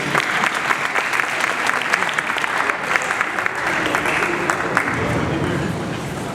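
Studio audience at a hypnotist's stage show in Abidjan claps steadily for a volunteer, a dense, loud wash of applause lasting throughout, with a voice or two faintly under it.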